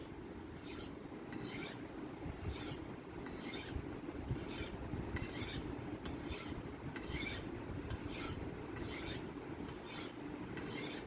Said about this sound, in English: So we are kind of sharpening it a little bit more. And I'll just do a few strokes.